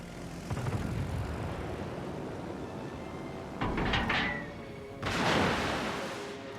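In a naval video game, fighter planes launch from a carrier with rising propeller-engine roars, two distinct swells of aircraft noise sweeping past over a steady low background rumble.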